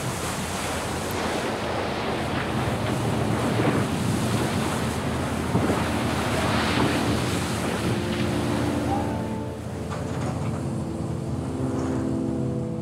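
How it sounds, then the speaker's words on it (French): Hurricane-force wind roars over huge crashing waves at sea aboard a fishing boat, a loud continuous rush with buffeting gusts and surging water, an engine drone emerging toward the end. "85 nœuds de vent sous rafale, près de 160 km/h. Vague de la taille d'un immeuble, un ouragan."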